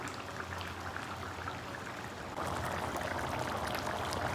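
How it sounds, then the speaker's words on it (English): Water for rice comes to a boil in a pot while making prawn biryani, a steady hissing, bubbling rush that grows slightly louder midway and continues without talk. "So the water has started to boil"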